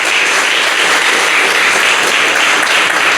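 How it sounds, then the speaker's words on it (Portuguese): A church congregation applauds during a Portuguese-language evangelical service, producing dense, loud, continuous clapping that holds evenly from start to finish. "Vamos aplaudir o Senhor Jesus?"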